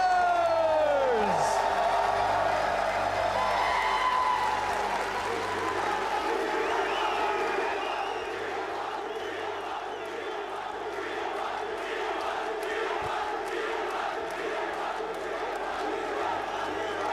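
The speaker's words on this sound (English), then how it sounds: "And you can just hear the crowd." An arena crowd at the Esports World Cup 2024 League of Legends final roars, cheers and whoops after the winners are announced. A loud, sustained wall of crowd noise with scattered clapping and shouts, and an announcer's voice rising over it at the start.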